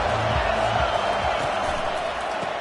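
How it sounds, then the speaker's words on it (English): Stadium crowd at an Ohio State football game, a broad steady roar of cheering and noise under a commentator's talk. "this crowd trying to help keep them there"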